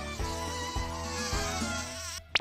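A cartoon fly-shaped robot buzzes in a Japanese anime scene, a steady insect-like drone with a few soft thumps running under background music for about two seconds before cutting off with a short squeak.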